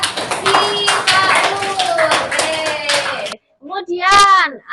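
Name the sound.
classroom applause for a student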